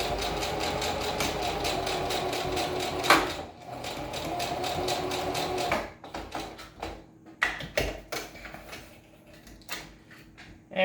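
A sewing machine runs a steady, continuous reinforcing stitch on a homemade fabric mask, then breaks into short uneven bursts and pauses as the stitching stops and restarts, close and clear with no talk.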